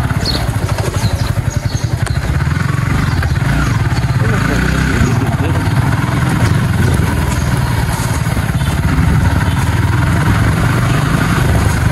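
A 155 cc motorcycle named Rajendra runs steadily while being ridden, its loud close engine drone continuous under someone talking.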